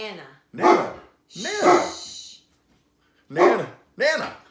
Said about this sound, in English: And she's just started barking like that.